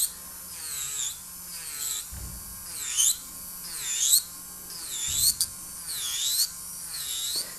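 High-pitched whirring of a small electric nail drill working on gel nails rises and falls in repeated sweeps about once a second, close by, with faint thumps between passes.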